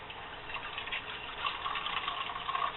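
Water spilling out of an overfull coffee press cup outdoors on a trail, a soft continuous trickling gush that swells slightly and carries on for the whole stretch with no talk.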